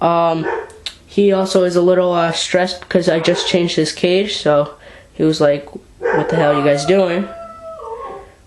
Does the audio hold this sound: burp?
no